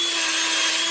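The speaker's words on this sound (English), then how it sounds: "if you don't have that grinder, and all you have is a drill, you can use these little bottle brushes" A drill spins a small bottle brush against a wheel to strip it, giving a loud, steady high-pitched whir with a constant motor tone throughout.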